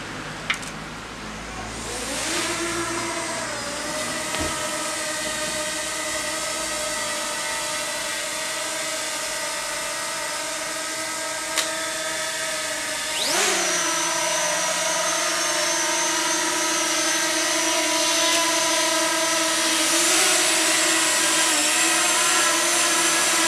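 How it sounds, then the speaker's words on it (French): Three mini drones, a Zino Mini, DJI Mini 2 and Fimi Mini, spin up and take off together, their layered high whining propeller tones rising at start and again partway through, steady and close, with no talk. "je vais faire décoller les trois drones"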